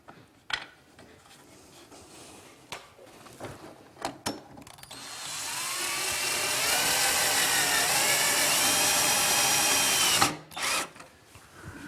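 A power drill drives a self-drilling screw with a trugle head into a wooden stile, starting after a few quiet taps and handling sounds, then whining steadily at rising pitch for about five seconds before stopping abruptly.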